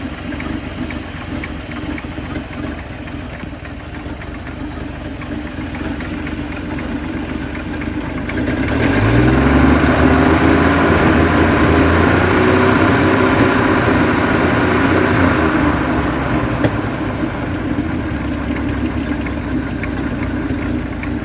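A WW2 International KS4 truck engine idles steadily with a loose fan belt, a low rumbling drone that swells louder and fuller partway through, then holds a constant near running note.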